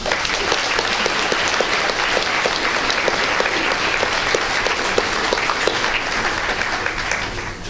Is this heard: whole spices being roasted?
no